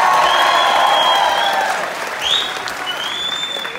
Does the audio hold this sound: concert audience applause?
yes